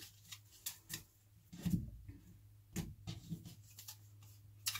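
Scissors cut close by during a tarot reading, making a few faint, crisp snips and small ticks against a quiet room.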